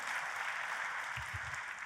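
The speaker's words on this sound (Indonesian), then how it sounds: "Tepuk tangannya yang paling meriah buat Tuhan kita." A church congregation applauds for about two seconds, a steady dense wash of clapping at a moderate distance.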